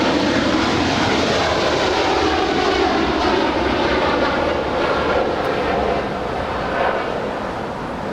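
An airplane roars loud and close at Los Angeles International Airport. The engine noise holds steady and broad the whole time, easing off slightly near the end.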